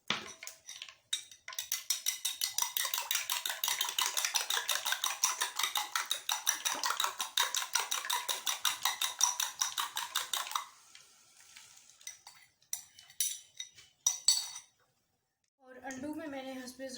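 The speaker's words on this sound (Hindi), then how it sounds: "अब इसमें अंडे फेंट के फ्राई कर लेंगे।" Eggs whisked in a metal pot before frying, rapid rhythmic clinking of utensil against the pot for several seconds, then scattered taps and a brief sizzle near the end, close and fairly faint.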